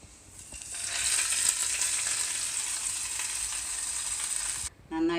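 Hot tempering of mustard seeds and dried red chilies poured onto beetroot for a Kerala-style pachadi, giving a loud sustained sizzle and crackle that cuts off abruptly near the end, followed by a brief faint scrape.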